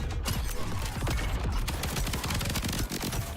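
Rapid automatic gunfire rattles on continuously in the sci-fi shooter Void/Breaker, dense, loud bursts with mechanical clatter and no pauses.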